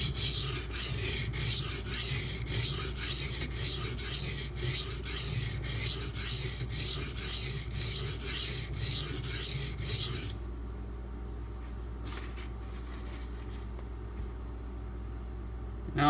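A Brous Bionic XL knife with a D2 steel blade drawn repeatedly across a sharpener, rhythmic rasping strokes about twice a second, loud and close, stopping abruptly to quiet with a few faint taps.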